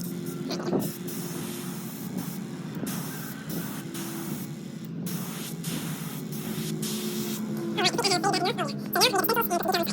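A paint sprayer hisses in short bursts while coating a homemade fishing lure, close and fairly quiet, with a person talking over and between the sprays.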